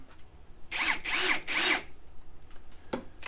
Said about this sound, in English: turns my Ryobi into a drill press